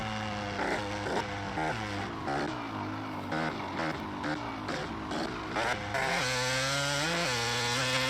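Two-stroke dirt bike engine with the clutch pulled in, from the video game MX vs ATV Legends, revving with a buzzy, raspy, wavering tone that climbs and dips, loud and continuous with no talk.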